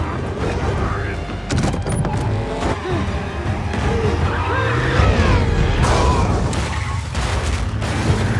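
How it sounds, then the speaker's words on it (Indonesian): A steel armored car in an action film chase is rammed and overturned: loud booms, metal crashes and revving engines follow in a dense, chaotic barrage. "Dom dan Jacob berusaha untuk menghancurkan mobil baja yang ditumpangi Otto dan mereka berhasil menggulingkannya"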